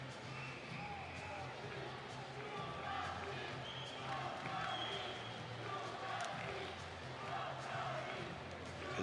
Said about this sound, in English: Now the crowds really are getting into this